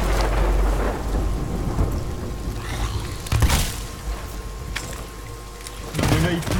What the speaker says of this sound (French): il pleut encore